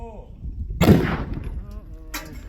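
A hard-rock blasting charge goes off with a single sharp, booming crack, followed by a short rumbling decay, with a voice heard briefly before and after.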